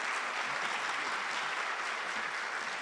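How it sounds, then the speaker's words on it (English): An audience at a law masterclass clapping hands to welcome a professor, a steady, fairly distant wash of applause that holds at an even level throughout. "Can we clap our hands?"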